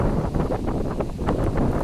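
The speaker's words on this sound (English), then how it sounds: "Very windy early evening here." Strong early-evening wind on a beach boardwalk in Hollywood, Florida after rain, a steady rushing roar with gusty buffeting against the microphone, loud and constant.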